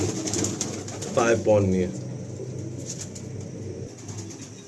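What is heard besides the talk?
pigeons cooing and flapping in a loft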